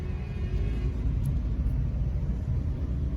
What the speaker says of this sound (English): it's misfiring like crazy